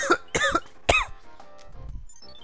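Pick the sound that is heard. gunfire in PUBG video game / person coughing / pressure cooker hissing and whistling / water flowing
person coughing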